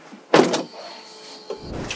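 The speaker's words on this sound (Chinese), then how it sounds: "关门的时候也一样。" The door of a Bentley Continental GT swings shut with one solid, close thud, followed by a quieter settling sound and a faint click.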